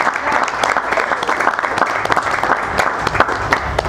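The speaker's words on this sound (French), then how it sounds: "On va applaudir une fois de plus pour ces messieurs." Audience applause at a Congolese film event, steady dense clapping from a crowd lasting throughout, fairly loud with a faint murmur of voices.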